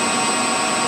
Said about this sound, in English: start the spindle at 1200 RPM, you can see that currently it's running at 1204 RPM.